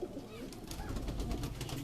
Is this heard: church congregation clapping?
no